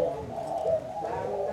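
A spotted dove coos in soft, rounded notes that run together steadily and close by, with no other sounds.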